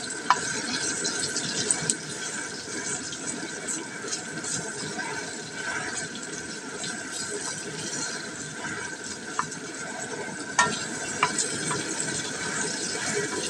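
Onion and meat, for ginisang sayote, sauté in a pan with a soft, steady sizzle and a few light clinks and stirring scrapes, fairly quiet and close, with no talking.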